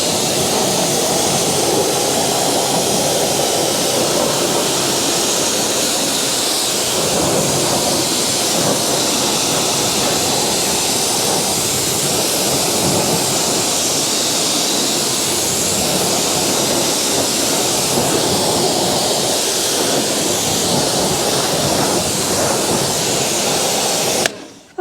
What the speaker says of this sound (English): We'll see how this comes off just with a direct jet wash.